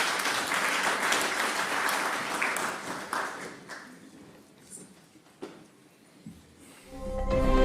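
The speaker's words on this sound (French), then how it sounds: "Et on va accueillir maintenant, sous vos applaudissements, Monsieur Augustin Matata Ponyo" A conference audience welcomes an honorary Prime Minister of the DRC to the stage with full applause that slowly thins and fades into scattered claps, then a voice begins to speak at the end.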